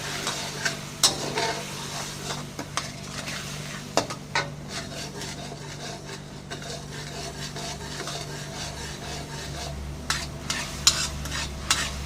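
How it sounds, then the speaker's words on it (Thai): Two ingredients stir-fry in a pan with a little water, a soft sizzle under repeated scrapes and knocks from a spatula, close and steady. "ผัดสองสิ่งให้หอมก่อนครับผม"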